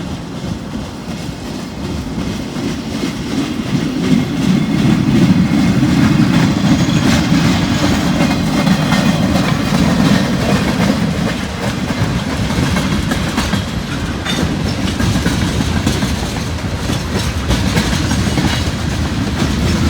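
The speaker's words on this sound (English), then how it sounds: "we got the local coming back with the caboose leading" A CSX local freight train with a caboose leading and an EMD Jeep pushing a 4-axle consist rolls past on a rainy day, a loud, steady rumble with rhythmic wheel clatter across the rails that builds and holds for the whole pass.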